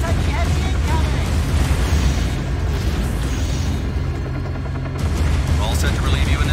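Artillery booms and gunfire from the PS2 game Battlefield 2: Modern Combat, with continuous explosive rumble and bursts, a brief dip near the end before the barrage swells again, while radio-style voices talk over it.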